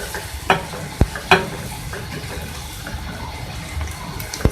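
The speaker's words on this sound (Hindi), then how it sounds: "इसके साथ ही मैं इसमें ऐड करूंगी बड़ी इलायची, दालचीनी और लौंग। इसके साथ उसको भी हम फ्राई कर लेंगे।" Onions frying in a karahi with black cardamom, cinnamon and cloves for beef Shinwari keema, a steady close sizzle broken by a few sharp stirring clinks of a spoon against the pan, no talking.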